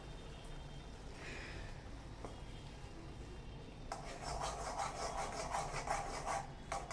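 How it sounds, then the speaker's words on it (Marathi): Chickpeas for butter chole masala are stirred in a pan with a utensil, close scraping and rubbing over a low background hiss, getting louder and busier in the second half. "नुसते ड्राय छोले खाल्ले जात नाही म्हणून. छान हलवून घेऊया."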